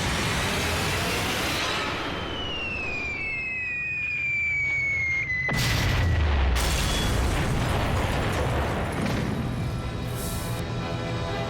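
Bombs explode across a World War II rail yard as a dense, continuous roar of blasts and rumbling, with falling whistles sweeping down early on and a heavier burst of impacts in the middle, loud throughout.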